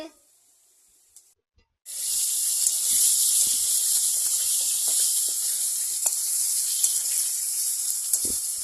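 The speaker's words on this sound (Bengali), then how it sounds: "আলুকে গোল গোল করে কেটে নিয়েছি, তারপর আলুটা ভাজছি" Round potato slices fry in a wok of leftover oil, starting with a sudden loud hiss after a quiet moment, then a steady dense sizzle with occasional clinks and bumps.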